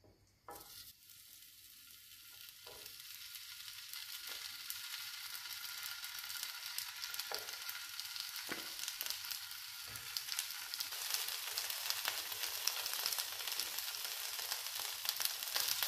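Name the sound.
zucchini frying in a pan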